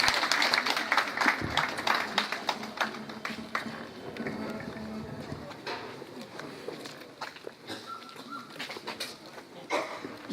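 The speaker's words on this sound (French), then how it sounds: "Applaudir un peu plus fort." A crowd at a closing ceremony of a congress in Fomopéa claps steadily for several seconds, loud at first then thinning out, with voices murmuring underneath.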